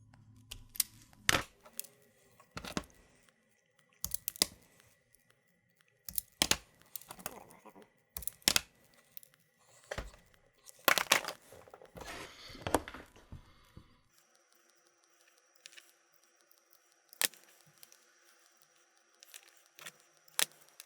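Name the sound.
stripping wires for motion detector hack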